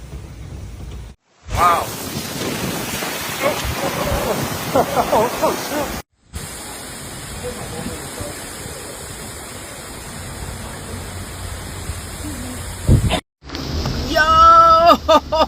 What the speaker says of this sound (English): That is a microburst.